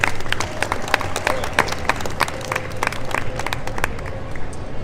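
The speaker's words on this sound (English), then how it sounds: "That deserves a round of applause." Audience applause at a natural bodybuilding posing demonstration and speech, crisp dense clapping throughout, fairly close and loud, with scattered sharper claps standing out and faint crowd noise beneath.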